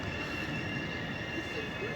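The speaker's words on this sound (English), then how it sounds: "This train drives from Frankfurt Oder." Red Regional Express train of line 1, bound from Frankfurt (Oder), rolls past on a Berlin bridge, a steady continuous rumble with faint wheel squeal rising near the end, loud and close throughout.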